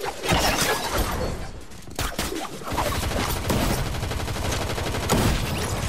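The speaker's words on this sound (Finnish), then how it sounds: "Kun saa ammuta, niin pitää heti alkaa ampua." Gunfire in the Fortnite video game, rapid sustained bursts of automatic shots and cracking impacts, loud and close, continuing almost without pause.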